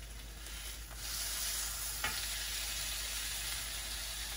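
Pork tenderloin sears in a hot pan, a steady broadband sizzle holding even throughout with one brief sharper crackle midway, close and alone with no voices.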